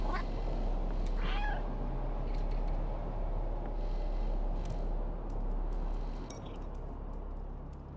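A cat meows in a video game set in a dense walled city inspired by Kowloon Walled City, giving a couple of short, high calls early on over a steady ambient background hum, with no talking.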